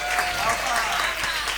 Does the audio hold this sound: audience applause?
yes